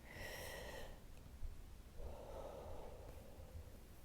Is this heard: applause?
no